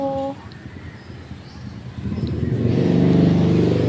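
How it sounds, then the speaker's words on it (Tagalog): A motorcycle engine rises from a low rumble to a loud, close roar as it passes on a street in Singapore, steady and growing in the final seconds. "ang ingay naman ng motorsiklo na yon"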